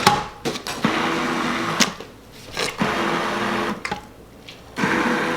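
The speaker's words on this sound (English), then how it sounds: "I think that you can keep the texture in with a stick blender" An immersion stick blender purees refried beans, whirring in loud bursts with a steady motor whine. It stops and restarts several times, with brief quieter gaps between runs.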